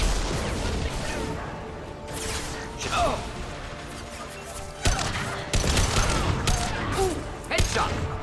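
Bursts of gunfire and mechanical weapon noises from combat in the video game Mass Effect 2, several volleys and impacts spread across the clip with brief lulls between, mixed with a player's voice.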